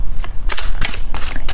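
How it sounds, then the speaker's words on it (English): Tarot cards shuffled by hand in quick riffling bursts, several short crisp flurries close by with brief pauses between, no talking. "I am shuffling the cards"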